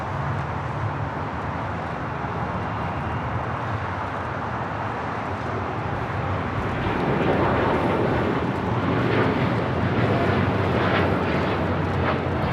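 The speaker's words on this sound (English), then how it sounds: "That Japan Dreamliner rolling down 25 right." A Japan Airlines Boeing 787-9 Dreamliner bound for Osaka rolls down runway 25 right at LAX, a steady engine roar that swells louder partway through as it accelerates on takeoff.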